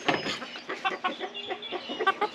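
American Breese hens cluck and chatter in a busy flock, overlapping soft calls close by at a quiet level with no talking.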